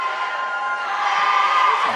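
Student crowd at Timpanogos' home boys high school basketball game against Pleasant Grove, a steady, dense roar of many voices that swells slightly toward the end, with no single voice standing out.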